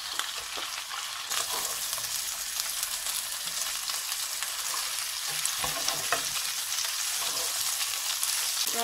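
Beans, carrots and broccoli stir-fry in a hot pan for a restaurant-style Chinese vegetable dish, giving a loud, constant sizzle with repeated stirring clatter close by and no voices.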